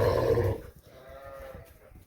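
A sheep gives one loud, close bleat lasting about half a second, followed by quieter background farmyard noise.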